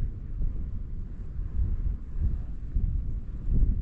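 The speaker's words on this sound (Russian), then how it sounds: "Ветер как дул, так и дует. Только даже, по-моему, усилился." Strong wind blowing across a frozen lake while ice fishing on Lake Chany: a low, steady rumbling roar with gusty surges buffeting the microphone, loud and continuous with no talk.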